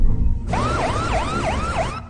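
An ambulance siren wails in a rapid rising-and-falling yelp, about five cycles in under two seconds, loud and close over low traffic rumble.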